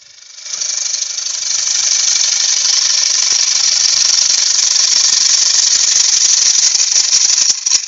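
A bowl gouge rough-turns an ash bowl on a wood lathe, producing a loud, steady, rasping cutting roar that starts about half a second in and holds nearly unbroken to the end, with no talk.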